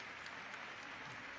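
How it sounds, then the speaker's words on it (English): Crowd applause fills a basketball arena during a Montana State at Utah State men's game, a steady, dense wash of clapping for an injured player that holds level and fairly loud throughout. "Utah State with the applause."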